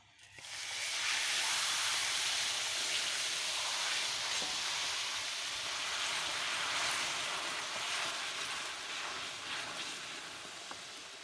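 Milk poured into melted sugar in a pan while making milk toffee, giving a steady, loud hiss and sizzle of steam that sustains evenly with no talking.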